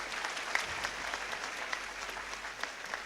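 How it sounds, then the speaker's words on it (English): Steady applause from an audience at a youth programme event, a dense continuous patter of clapping throughout, moderately loud. "And can we have a big round of applause for Mr. Dempo?"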